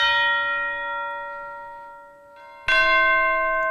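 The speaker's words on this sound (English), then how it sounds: "So the regular chime sounds like this." A bright orchestral chime strikes and rings out slowly on a root tone, then a second stroke sounds loudly, its tones sustaining clearly with no other sounds.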